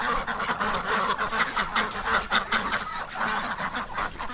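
Ducks herded toward a barn on a damp, cold winter day honk and quack in a noisy, overlapping chorus close by, with calls repeating steadily throughout and no one talking.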